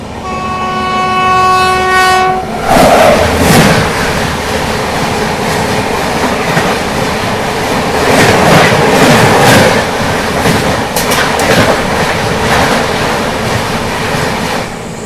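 Danapur Bengaluru Sanghamitra Express passing close by, opening with a long loud horn blast that gives way to a steady roar and rattling clatter of coaches rushing past.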